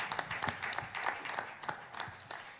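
An audience applauds at an intellectual property and music industry event, steady clapping filling a short stretch at moderate distance without speech.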